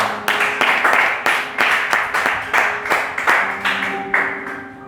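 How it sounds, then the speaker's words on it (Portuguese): A church congregation clapping in a steady, rhythmic beat at a worship service, with loud sharp claps repeating roughly twice per second while faint tones ring underneath. "Receba a serva do Senhor com as palmas para o Senhor."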